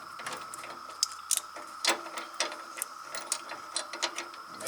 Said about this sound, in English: Let me just undo this bolt.